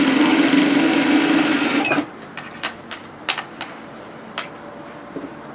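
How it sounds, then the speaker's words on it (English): A sewing machine stitches the notches of a long-line pleated hoodie together, running in a loud, steady whir for about two seconds, then stopping; scattered small clicks and handling taps of the fabric and machine follow in near quiet. "So just continue around sewing those notches together."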